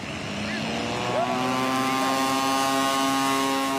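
A Cessna 180 with a 520 engine launches at a STOL drag race, its propeller engine droning steadily and rising in pitch at close range, without talk.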